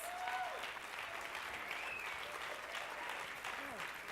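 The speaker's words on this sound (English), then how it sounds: "Can we give her another round of applause?" Audience applause at an education summit: dense, sustained clapping from a large crowd filling the whole stretch at steady volume, with no talk over it.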